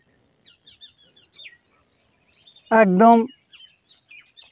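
Small birds chirp and twitter faintly in a quiet, green farming countryside, with short scattered calls that continue around a single loud word spoken close by in the middle.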